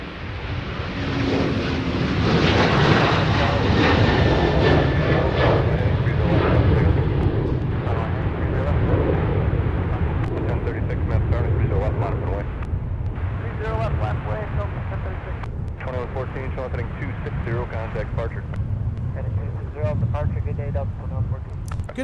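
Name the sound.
KLM Boeing 787-9 departing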